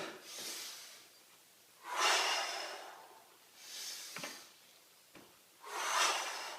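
Deep, forceful breaths are drawn in and pushed out during a lunge exercise, four long airy cycles at a slow, steady rhythm, close and clear with no talking.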